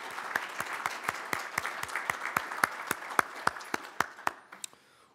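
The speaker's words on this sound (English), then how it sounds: "Please join me in giving these folks a round of applause for all that they've done for this program." A small audience gives a round of applause for program sponsors at a Council for Quality Growth State of the County event, with distinct, evenly spaced claps that thin out and fade near the end.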